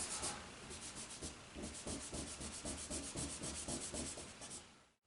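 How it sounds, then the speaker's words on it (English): A gray kneaded eraser rubs charcoal off drawing paper in fast back-and-forth swipes. The rhythmic scrubbing is close and fairly steady and stops abruptly at the end. Nobody speaks. "I'm taking this gray eraser and I'm really swiping off in the white areas"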